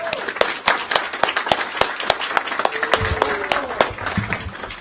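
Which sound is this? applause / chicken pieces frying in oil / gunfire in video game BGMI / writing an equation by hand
applause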